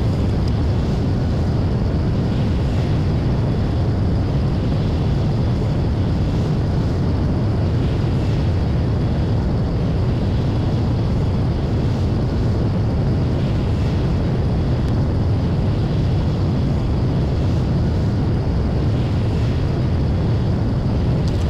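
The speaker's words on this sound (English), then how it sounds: "At this point, I am flying an aircraft that is ready to land." Su-25 jet engine in the Lock On Flaming Cliffs flight sim on landing approach with gear and flaps down, a steady, loud broadband roar holding evenly throughout with no talk.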